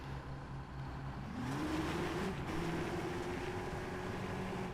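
Combustion engine of a custom red car in the Lego 2K Drive video game, a steady droning rumble that rises in pitch as it revs and accelerates, loud and continuous with no speech.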